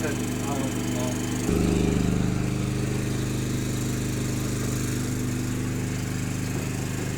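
A Philking PK4200ie2R generator runs under an electric motor load with a steady, loud engine drone. Its tone and level jump slightly about a fifth of the way in and then hold steady.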